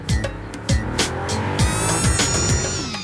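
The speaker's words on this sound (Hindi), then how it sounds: "ये है डुकाटी डियावेल, ऐसी मोटरसाइकिल जिसे अब तक नहीं चलाया था" A Ducati Diavel motorcycle riding on an open road in the morning, its engine droning steadily with rising and falling tone, while several sharp whooshes of passing air or traffic sweep past.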